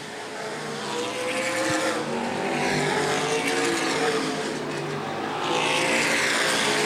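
Stock cars in an ABC A Feature race at Angola Motorsport Speedway roar past the start-finish line, a loud, continuous engine drone that swells as the pack flashes by, with no talk over it.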